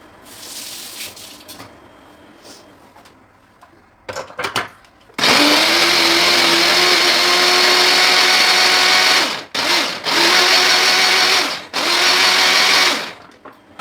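A kitchen food processor chops tomatoes for homemade lahmacun topping, starting abruptly after a few quiet seconds with a loud, steady motor whir that cuts out and restarts twice in short pulses.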